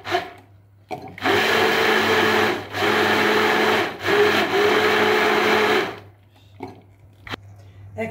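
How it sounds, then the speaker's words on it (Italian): An immersion blender whirs loudly through a pot of pasta and bean soup with speck, running in steady bursts with brief dips in pitch, then stopping and leaving quiet kitchen clatter. "passiamo al mixer o al frullatore in immersione"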